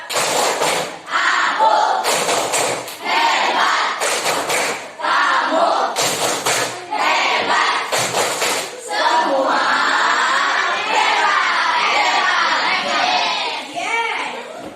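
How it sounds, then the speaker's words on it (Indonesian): A school class performs a rhythmic tepuk hebat clapping chant in a classroom, with bursts of group clapping alternating with children's voices chanting in unison, loud and close. "Tepuk hebat dulu, tepuk hebat."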